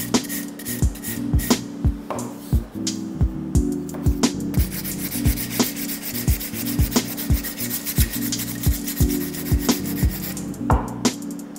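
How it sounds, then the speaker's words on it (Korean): Acrylic nail extension being shaped with a hand file in straight, overlapping strokes, giving a steady, close scraping rub that repeats in quick regular rhythm over a faint background hum, with no talking. "지금 파일링은 직선으로 하기 때문에 직선이 여러 개가 겹겹이 모여서 둥근 원형을 만들어 간다고 생각하시면 됩니다."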